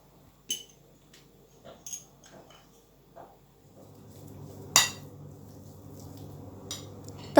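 A spoon stirs and clinks in a bowl of mashed potato mixed with butter, black pepper and salt, giving soft scraping with a few sharp clinks, one louder tap near the end, in a quiet kitchen.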